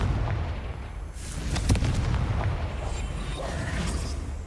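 A Confringo fire-blast spell goes off in the video game Hogwarts Legacy: booming, crackling explosion noise rolls on continuously over a heavy low rumble, loud and dense throughout.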